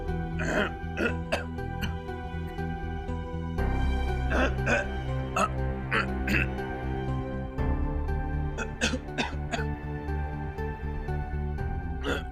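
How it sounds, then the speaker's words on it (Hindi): Several people coughing and clearing their throats in a domestic setting, repeated sharp bursts one after another over a steady low background, fairly close. "वो अचानक से सबको खांसी क्यों आ रही है?"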